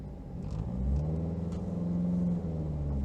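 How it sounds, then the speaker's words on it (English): A Suzuki Swift Group N rally car pulls away in first gear on a concrete rally school surface, its engine rumbling steadily close by with a gentle rise in revs and no talk. "So pop it in the first gear, handbrake is off already, little bit of throttle."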